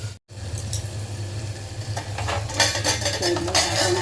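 A metal lid set onto a cooking pot of onion and tomato in a home kitchen, producing light clinks and clatters of metal against metal over a low steady hum, close and moderately loud, with no talking.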